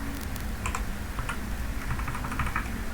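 Values are typed into an Excel spreadsheet on a computer keyboard: quick, close keystrokes patter at an uneven pace throughout over a faint background hum.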